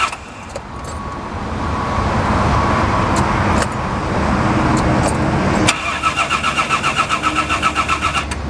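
An old Jaguar engine cranking over on a freshly fitted battery, a loud steady whirring churn close by, giving way to a rapid pulsing rhythmic turnover toward the end, with no voices.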